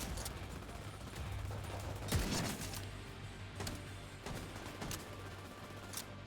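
Bursts of AK rifle fire in the video game The Division 2, with a loud shot around the middle and scattered reports after it, over a steady hum of game background noise.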